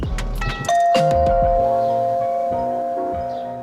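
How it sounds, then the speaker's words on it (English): A doorbell chime, triggered by a Logitech Circle View video doorbell, rings out clearly, a few sharp tones followed by a sustained ringing note that slowly fades, with nothing else heard. "our chime rings just like it's supposed to"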